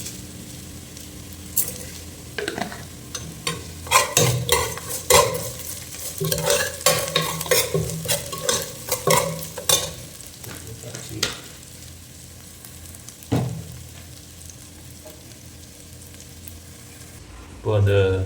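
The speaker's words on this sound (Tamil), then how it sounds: "மீன் பொரிக்க போகிறேன். எண்ணெய் ஊற்றியாச்சு." Mackerel pieces frying in hot oil in a village-style kitchen, crackling and sizzling in bursts with stirring and scraping sounds, close up, fading to quieter sizzle before a final clatter.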